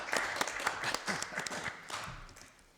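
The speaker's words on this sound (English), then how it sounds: "Clap." Committee members in a council meeting room clap for a retiring colleague, a quick run of many overlapping claps that thins out and fades over a couple of seconds.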